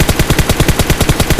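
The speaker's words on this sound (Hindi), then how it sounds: "आपकी जब गोलियां फायर हो रही है" Rapid automatic gunfire from a mobile shooting video game, a steady, evenly spaced burst of shots firing about ten per second, loud and close with no talk over it.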